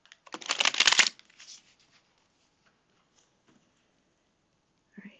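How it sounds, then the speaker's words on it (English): A quick riffle of tarot cards shuffled close by, a dense papery burst lasting about a second, then near silence with a few faint ticks. "Okay, one more shuffle, Spirit."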